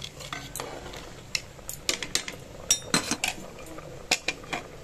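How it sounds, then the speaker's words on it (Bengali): Chickpea dal with salt and turmeric being stirred in a pot: a metal spoon scrapes and clanks against the vessel in irregular sharp knocks and clatters, some louder strikes clustered near the middle, with no talking. "ভালো করে নেড়ে দিলাম।"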